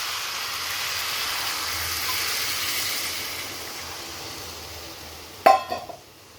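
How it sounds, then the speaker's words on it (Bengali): Water poured into a hot pan of fish head, pumpkin and potato curry gives a steady hiss and sizzle that slowly fades, followed by a brief metallic clink near the end. "এবার আমি জল দিয়ে দিব।"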